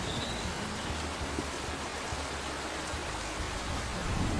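Steady, dense rain during a Kalbaishakhi nor'wester storm in a Bengali cartoon, a continuous wash of hiss with no pauses and no voices.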